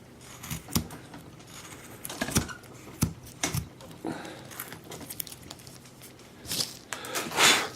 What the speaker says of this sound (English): Still making the squeaky noise here on the table.